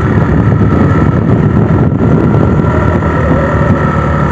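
A 125cc motorcycle engine pulls uphill in second gear on a hilly road in Purulia, a steady, loud drone mixed with heavy wind rush that continues without a break.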